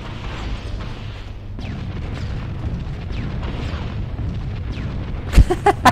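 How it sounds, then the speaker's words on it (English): Explosions in the Halo video game, a steady rumbling barrage of booms with a few sharp louder blasts near the end, dense and continuous with no talking. "It's just the sounds of explosions."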